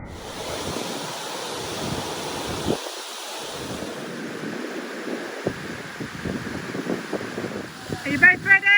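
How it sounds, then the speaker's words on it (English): Water pours over the top of a canal lock guillotine gate on the River Nene, making a constant rushing roar like surf with some wind buffeting. "The water actually goes over the top of this guillotine gate."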